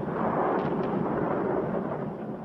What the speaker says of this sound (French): 3 énormes bombes frappent une réserve de munitions.